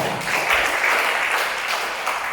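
Congregation applause at a youth church service, a steady wash of many hands clapping together, sustained and even at moderate volume.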